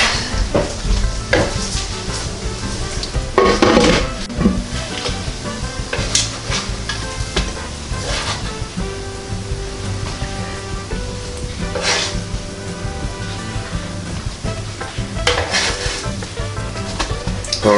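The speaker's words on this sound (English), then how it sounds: "continue with the cooking of these pancakes" Pancake batter sizzles steadily on a NuWave Medley XL electric skillet, a continuous close frying hiss with occasional scraping and clicks of a spatula.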